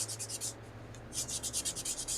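Rhythmic back-and-forth strokes of wet sanding on a round plastic model surface, a quick run of rubs, a short pause, then a longer, steadier run, close and fairly quiet.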